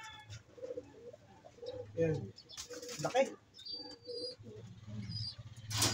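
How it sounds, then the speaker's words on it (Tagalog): A male pigeon coos near its nest in low, throaty repeated phrases, joined by a few faint chirps and a brief flutter of wings, while someone speaks softly between the calls. "ang ating boy ibon"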